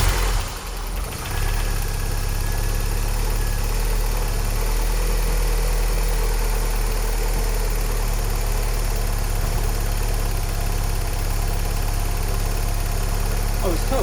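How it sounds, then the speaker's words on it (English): A car engine cold-starts with a brief rough burst, then settles into a loud, close, steady idle that hums evenly throughout. "Let's do a cold start."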